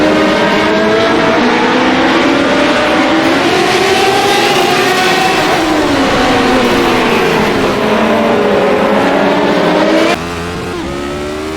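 Radical SR8 race car engines in iRacing at Oran Park, a loud, continuous high-revving whine with pitch sweeping up and down through gear changes, one car close and dominant, dropping suddenly in level near the end.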